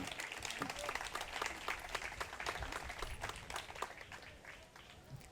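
Audience at a conference on Latin American citizen revolutions applauds visiting guests, a steady dense clapping from a large crowd that continues throughout without pause.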